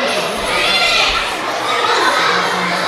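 A crowd of children shouts and cheers in the stands at a hockey game, a loud, continuous wash of young voices echoing through the arena.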